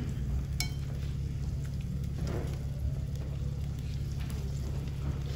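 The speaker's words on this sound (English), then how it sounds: "Sear super fast, but it's really important that you have this pan on high." Chorizo searing in a pan on high heat on an electric stove, heard as a steady, even sizzle throughout with no talking.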